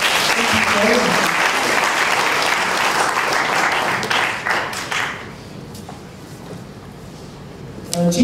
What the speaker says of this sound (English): Can we please clap for them?